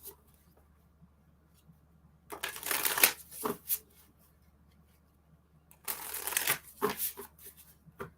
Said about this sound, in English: Got my deck all shuffled up.